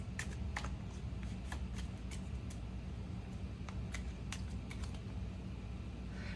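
Tarot cards being shuffled and handled during a reading, with a series of soft, crisp riffles and taps spread across several seconds over a steady low background hum.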